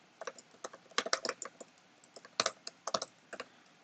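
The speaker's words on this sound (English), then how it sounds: "just typing this out as I speak" Typing on a computer keyboard, close and clear, with irregular bursts of sharp key clicks and brief pauses between runs, no voices.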